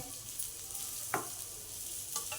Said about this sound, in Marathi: कांदा आता हे थोडासा परतून झालाय ह्याच्यामध्ये मी हा लसूण टाकून घेते दहा पंधरा पाकळ्या लसणाच्या